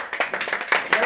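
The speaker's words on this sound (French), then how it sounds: "Applaudissez." A group in a Hebrew language class claps in fast, uneven bursts, roughly five or six sharp claps a second, fairly close and loud.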